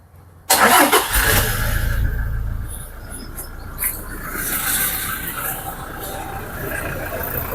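A black Toyota Fortuner, a 4x2 automatic with 73,000 km, starts up nearby with a sharp crank that catches into a steady, fairly loud idle, with a faint insect-like high hiss running underneath.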